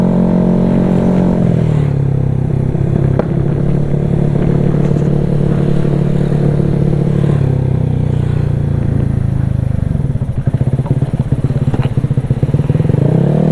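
A Honda Vario 210cc motorcycle, engine being run in, revs hard and close, a loud droning whine that rises and falls over several throttle blips with a rattly clatter.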